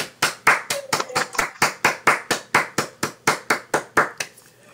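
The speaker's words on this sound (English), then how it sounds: "we give you an applaud" Slow, regular hand claps, around eighteen distinct sharp claps in even rhythm, close and clear, given in recognition of a volunteer of the year at a botanical gardens foundation annual meeting, likely from a single person or a small group.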